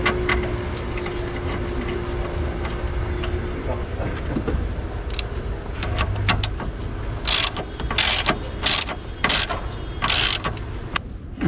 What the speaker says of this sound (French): Donc on va le serrer avec le boulon de 13.